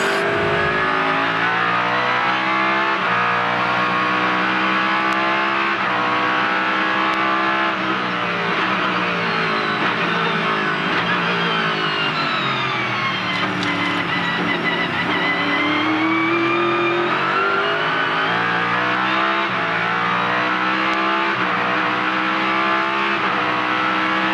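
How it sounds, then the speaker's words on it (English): An on-board 2004 Porsche race car in the Rolex Sports Car Series screams at full throttle on a wet track in the rain, its loud, continuous engine note climbing and dropping with repeated gear changes and lifts. "Let's have a listen to the throttle application on board with Scott Pruitt in these dicey conditions for the sounds of speed"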